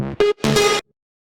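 Processed synth lead preset from a music production remix, bright buzzy harmonic tones playing a short phrase of three notes, close and dry, then cutting to silence.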